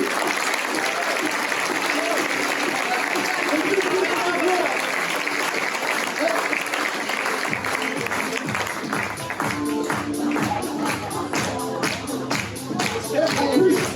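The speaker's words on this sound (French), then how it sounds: "Alors, applaudissements pour notre nominé et son équipe, Pascal Novachvili." An audience at a town New Year's greetings ceremony in Templeuve-en-Pévèle applauds an award nominee and his team, sustained dense clapping from many hands that swells and stays loud throughout, with a voice over it early on.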